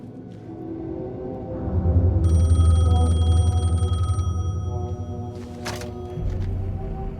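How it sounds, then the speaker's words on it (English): Payphone in the video game Alan Wake 2 ringing with a bright, trilling electronic bell over a low droning ambient bed, a single sustained ring burst followed by a brief sharp clatter, no talking. "The payphone was ringing."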